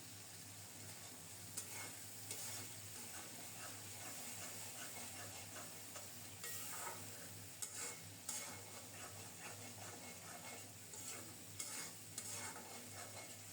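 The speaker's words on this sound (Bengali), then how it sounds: "এবার অল্প তাপে মশলাটাকে মনের মতো করে কষিয়ে নেব।" Spice paste with softened onion sautéed in oil over low heat while being stirred, giving a steady soft sizzle and hiss with scraping stir strokes throughout, close and fairly quiet.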